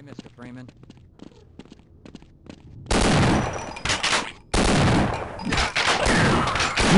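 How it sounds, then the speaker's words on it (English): Shotgun blasts in the Half-Life game, two loud, sustained bursts of gunfire following a stretch of quieter speech, with a short gap between them. "There we go, shotgun."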